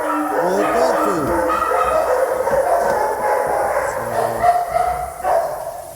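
Several dogs bark and yip in a continuous, overlapping chorus, fairly close, with some higher whining tones mixed in.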